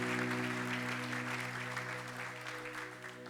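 A church congregation applauds during a service, a wash of distant clapping under a steady musical drone from an instrument, fairly faint and gradually easing off.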